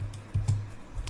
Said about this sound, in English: Simply type in